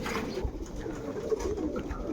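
A mixed group of domestic pigeons with clipped wings coos nearby, a brief, continuous overlapping murmur of soft throaty calls with no talking.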